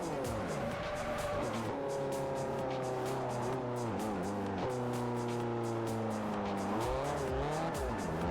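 A race car in Forza Motorsport 4 roars steadily through gear changes, the engine pitch climbing and dropping repeatedly with tire noise underneath, loud and continuous throughout.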